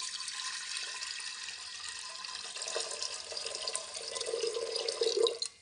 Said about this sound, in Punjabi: ਇਹਦੇ ਵਿੱਚ ਆਪਾਂ ਨੇ ਪਾਣੀ ਐਡ ਕਰ ਲੈਨੇ ਆ